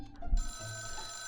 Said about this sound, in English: Ah, the old school phone sound.